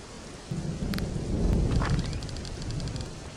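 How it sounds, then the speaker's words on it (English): Rain falls in a horror video game, a steady hiss of downpour with a low rumbling wash that swells after a moment and holds, moderately quiet, with no voices over it. "Guys, it's raining."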